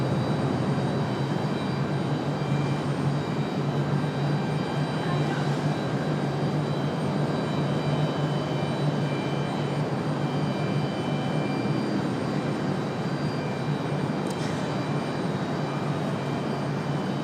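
A Southwest jet airliner departs Raleigh Durham airport, its engines giving a steady, broad roar that holds level throughout, moderately distant, with no one talking over it.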